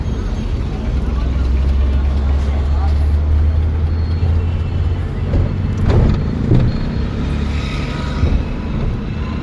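Car engine in a driving-lesson car, a steady low rumble that builds and revs up as the learner eases off the clutch and presses the accelerator, with an instructor talking over it throughout.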